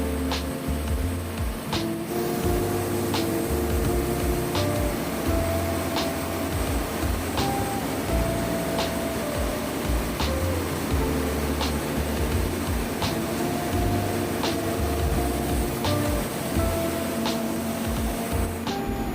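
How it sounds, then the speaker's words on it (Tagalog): A ship's emergency generator running steadily under a heavy load test onboard a vessel, a loud continuous engine drone with mechanical hum and periodic ticking, unbroken throughout. "So far, the emergency generator can carry all the heavy load we fed on it."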